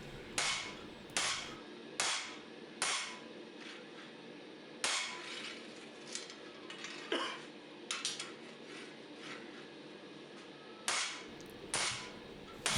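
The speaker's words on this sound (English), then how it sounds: "we can start planishing that fuller in and cleaning it up a little" A hammer planishes the fuller of a forged dagger blade at lower heat, making close, ringing metallic strikes in irregular bursts. Louder blows are interspersed with lighter taps over a faint background, and no one speaks.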